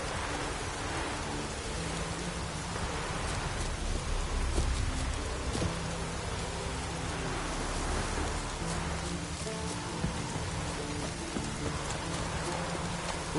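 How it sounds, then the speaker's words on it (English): Heavy downpour drenching a video-game world, a steady dense hiss of rain with faint low rumbles beneath, continuous and close throughout with no talking. "Raining fucking buckets."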